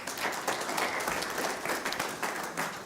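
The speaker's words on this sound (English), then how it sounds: "A round of applause for our panelists" Conference attendees applaud a panel on climate resilience, an even, moderate round of clapping from a mid-sized audience with no talk over it.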